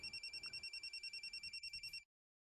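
A telephone rings in quick, evenly spaced electronic trills over faint background noise, then cuts off abruptly, leaving silence.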